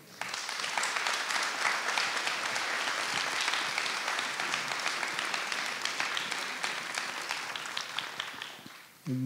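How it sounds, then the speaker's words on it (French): Dense, sustained audience applause fills an evening talk event before a lecture on black holes, holding steady for about nine seconds before cutting off abruptly. "Merci d'applaudir Jean-Pierre Luminet"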